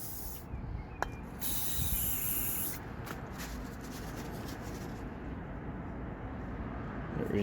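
Brake cleaner hisses from an aerosol can onto the front brake caliper of a Mazda MX5, a soft steady spray with a few short bursts over faint background rustling.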